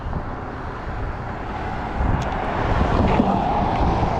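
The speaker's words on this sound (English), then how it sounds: "The wind is nasty." Loud, gusty wind buffeting the microphone while riding an Ecotric 20-inch folding fat tire e-bike, a continuous roaring rumble that swells stronger in the second half, with no talking.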